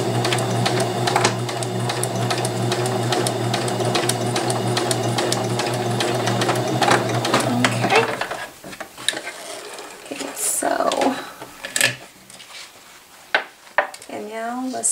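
A sewing machine stitches a vintage purse organizer insert, its rapid steady whir running close and loud for several seconds before stopping, followed by quieter rustling and handling of fabric.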